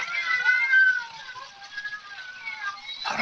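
Several cats meow in overlapping, drawn-out cries in a radio drama scene, fairly close and loud with no talk over them, ending in a brief noisy burst.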